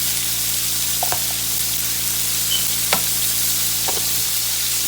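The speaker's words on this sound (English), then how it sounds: "We want a nice sear on our meat. Okay, get it spread it out around the pan." Ribeye beef for pepper steak searing in a hot pan, a steady broadband sizzle throughout with a few sharp scrapes and clicks of the meat being spread around, no talking.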